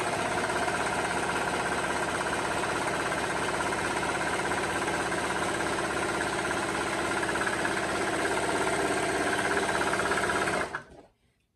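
A Brother 1034DX serger runs continuously while sewing a rolled hem, a loud, close, steady mechanical whirring and rapid stitching chatter that stops abruptly near the end.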